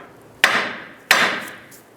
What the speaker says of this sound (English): use a hammer and whack the knuckle a couple times here to release this ball joint or tie rod end